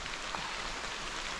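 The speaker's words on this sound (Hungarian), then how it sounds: "ebben a videóban, hatalmas nagy esőben, egy elhagyatott kis mini, cuki iskolát fogunk megnézni." Heavy rain pours steadily around a small abandoned rural school in farmland, a dense, continuous close hiss with no other sounds for just over a second.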